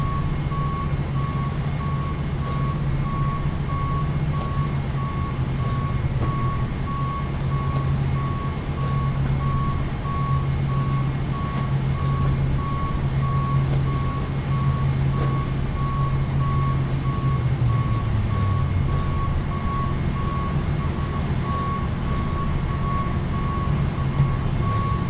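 A GSX ground service truck in a flight simulator reverses with a steady, evenly spaced electronic beep that repeats loudly over a constant engine drone.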